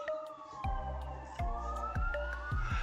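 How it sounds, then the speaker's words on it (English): An ambulance siren wails past, its rising and falling tone riding over heavy, rhythmic low thumps, fairly steady and moderately loud throughout. "And there goes the ambulance."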